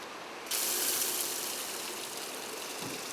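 Spring water suddenly starts pouring from a tap, a steady rushing splash that continues evenly to the end, close by.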